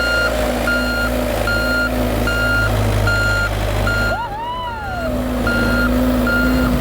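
A Bobcat skid-steer loader in reverse sounds loud, evenly spaced backup beeps over a constant diesel engine drone, with a brief pause and a squealing, whining sound in the middle before the beeping resumes.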